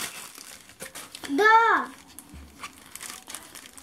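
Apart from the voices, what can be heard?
parcel packaging from China being opened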